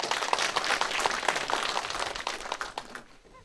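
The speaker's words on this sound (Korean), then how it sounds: "함께하신 어민들의 마음을 모아서 뜨거운 박수 부탁드립니다." Residents and fishermen at a county town-hall dialogue in a library multipurpose hall in Namhae give a moderately loud burst of clapping that thins out and stops after about three seconds.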